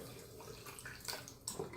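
Water being poured into a bottle for making water kefir, with sugar already inside, heard as a quiet, uneven splashing trickle with brief louder gushes, close by and without talk.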